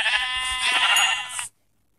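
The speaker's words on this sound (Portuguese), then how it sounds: "Ovelha." Sheep in a blocky Minecraft-style game on PlayStation 3 give a steady, loud, wavering bleat lasting about a second and a half, then cut off abruptly into silence.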